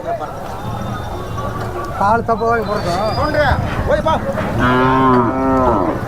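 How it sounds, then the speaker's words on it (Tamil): A calf moos repeatedly at the Matrapalli cattle market, its long, tonal calls close and loud, with a fuller, extended moo near the end over busy market noise. "காலை கண்டுக்குட்டி எவ்வளோ அருமையாக இருக்குது பாருங்க"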